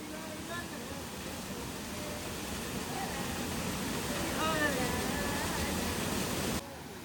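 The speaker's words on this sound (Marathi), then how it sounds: "ह्या बघा, असा एक धबधबा आहे" Adoshi waterfall makes a steady moderate rush of falling water throughout, with people talking faintly over it and brief higher sounds mixed in.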